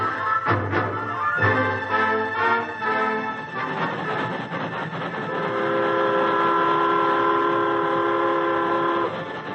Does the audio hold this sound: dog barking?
no